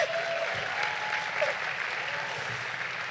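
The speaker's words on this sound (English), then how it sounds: "another round of applause for Dean Ward." Applause from a commencement crowd at Babson College, a dense continuous patter of many hands clapping at steady loudness throughout, with no clear speech.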